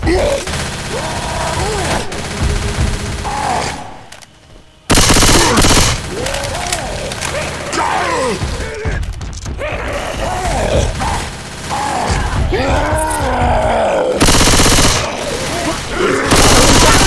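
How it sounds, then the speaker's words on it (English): Gunfire in Left 4 Dead 2 during a team tournament match: loud bursts of automatic weapon fire with mechanical clatter and brief pauses, continuing across the whole stretch, with players shouting over it. "Don't stop shooting!"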